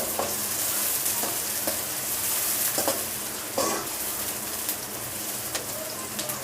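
Green chillies and chopped onion fry in hot oil with a constant close sizzle, broken by repeated clinks and scrapes of stirring, and a pigeon coos faintly in the background.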